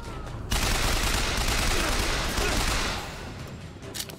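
A loud burst of rapid automatic gunfire in Bioshock Infinite, kicking in abruptly and hammering continuously for a few seconds before tapering off into scattered, quieter shots.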